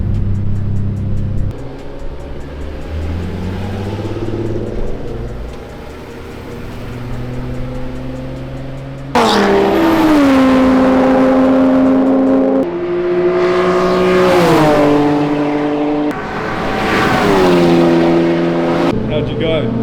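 A BMW on a race track accelerates hard through the gears, its engine note rising in strong revving sweeps with sharp shifts in between, loud and close as if heard from inside the car.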